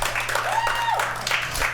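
An audience at a live comedy show applauds, steady clapping filling the room for a couple of seconds while a voice calls out over it.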